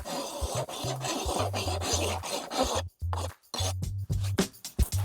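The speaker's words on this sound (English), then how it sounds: "Using your set square, just take off any of the burrs that are on the back of the board." A set square scrapes burrs off the back of a composite decking board in rapid rasping strokes, a rough rubbing rhythm close up that pauses briefly before resuming.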